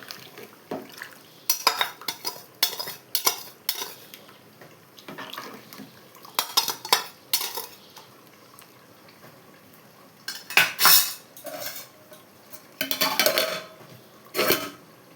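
Basanti polau rice in a pot is stirred together with bay leaves, salt and garam masala, giving irregular bursts of metal spoon clinking and scraping against the pot, separated by quiet pauses.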